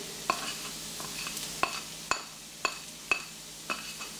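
Garlic, spring onions, thyme and red peppers frying in olive oil over medium heat, a quiet steady sizzle broken by about seven sharp scrapes and clicks of a utensil stirring against the pan.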